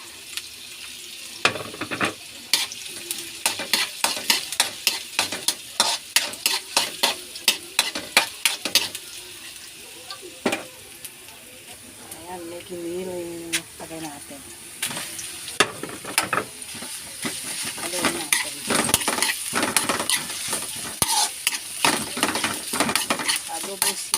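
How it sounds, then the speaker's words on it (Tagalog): Sliced onion and garlic fry in a pan while being stirred, a constant sizzle broken by frequent sharp clicks and scrapes of the utensil against the pan, with bursts of quicker scraping and a brief running-water sound in the middle. "Haluin natin ang sibuyas. Lagay natin ng bawang."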